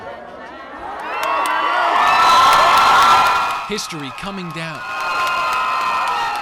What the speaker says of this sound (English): Thousands cheering as the Confederate flag descended from State House grounds.